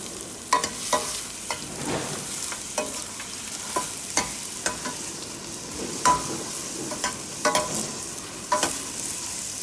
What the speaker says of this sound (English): The onion has to be fried on a very medium heat.